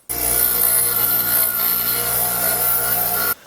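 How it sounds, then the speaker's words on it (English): A power tool bevels the edges of a metal plate before welding, a loud, continuous abrasive grinding whine that starts abruptly, holds steady for about three seconds and then cuts off, alone. "I'm going to bevel the edges of this so I can thin out the metal"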